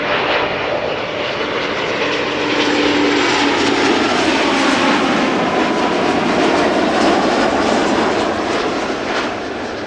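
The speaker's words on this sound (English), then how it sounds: "Embraer 195 arriving from Warsaw" Embraer 195 airliner landing at Amsterdam Schiphol, a loud close jet engine roar that swells and holds steady as the plane passes, with no talk.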